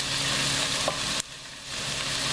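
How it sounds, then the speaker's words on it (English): Shredded cabbage and carrot stirred in a hot frying pan, a loud close sizzle with a brief scrape of the utensil that drops away abruptly partway through. "Give that a little stir."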